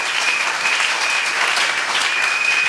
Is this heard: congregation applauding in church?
yes